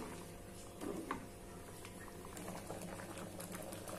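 Seblak broth with chicken feet boiling in a pot, a soft steady bubbling and gentle simmering patter, faint and close, continuing alone without speech.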